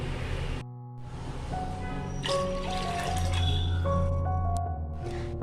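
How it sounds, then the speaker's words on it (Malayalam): Water is poured into strained tamarind water, a gurgling, dripping fill that swells in loudness and pitch over a few seconds, close by and alone. "ഇതിലേക്ക് 2 കപ്പ് വെള്ളം കൂടി ചേർത്ത് കൊടുക്കാം."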